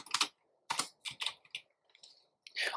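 Several short bursts of computer keyboard typing while entering code, clustered clacks separated by brief pauses, close and fairly clear with no talking.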